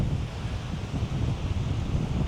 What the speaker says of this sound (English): And today has been the windiest day.